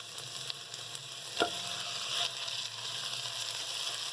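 Chicken frying with onions in a hot pan gives a steady, close sizzle. A single brief clatter rises out of it.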